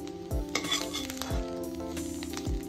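Grated beetroot fries in a kadai until dry, a constant close sizzle broken by three or four sharp scraping stirs of a spatula against the pan.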